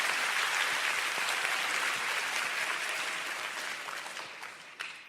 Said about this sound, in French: Je pensais que vous applaudiriez plus vite et plus fort.